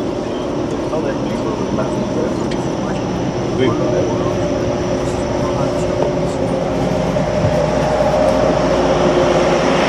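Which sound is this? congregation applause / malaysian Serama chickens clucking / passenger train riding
passenger train riding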